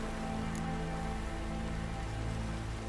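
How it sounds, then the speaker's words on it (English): Steady, dense rain patters evenly in The Witcher 3 video game, a constant hiss with no voices. "Looks like rain."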